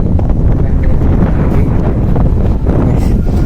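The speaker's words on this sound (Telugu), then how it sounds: "చల్లగా గాలి వస్తుంది, అది కూడా సమ్మర్లా" Strong wind buffets loudly and constantly against the microphone outdoors near a shopping mall, a dense, rumbling roar with no pauses.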